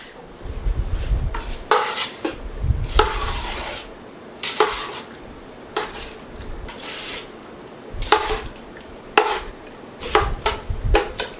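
A spoon scrapes and clinks against a pot while spaghetti sauce ingredients are stirred together, in repeated irregular strokes, close and fairly loud.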